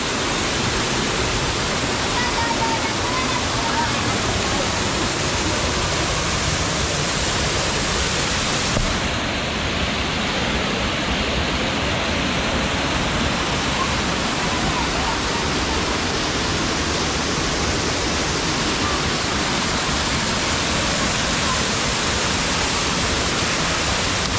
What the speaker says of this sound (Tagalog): Ganda ng falls mga kapulido.